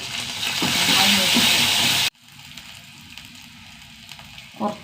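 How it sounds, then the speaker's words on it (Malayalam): Curry leaves and dried red chillies fry in hot oil with a loud, dense crackling sizzle for about two seconds. The sound then cuts abruptly to a quieter background hiss, with a brief clink near the end. "കറിവേപ്പില രണ്ട് വറ്റൽമുളക് നന്നായി മൂപ്പിക്കുക"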